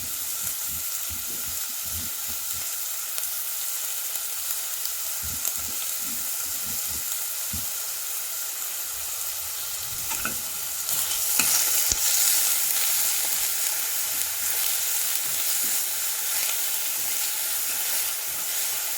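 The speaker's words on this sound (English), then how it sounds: "I'm adding this roughly crushed onion, garlic and ginger" Roughly crushed onion, garlic and ginger are stirred into oil in a pan before the gas is lit, for an Odia cabbage and peas curry. A steady hiss runs throughout with soft stirring scrapes, swelling slightly midway, and nobody speaks.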